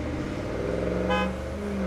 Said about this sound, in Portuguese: Não, eu dei uma buzinada sem querer.